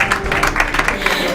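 Applause from a dinner audience, a short stretch of brisk overlapping hand claps with a crowd feel, fairly loud and close, with a voice faintly mixed in.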